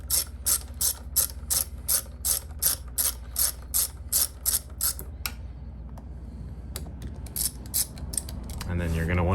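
A ratchet on a long extension loosens carburetor bolts on a 2019 KTM 300 XC, giving a steady run of about a dozen crisp, evenly spaced clicks close by, then scattered softer clicks and handling noise.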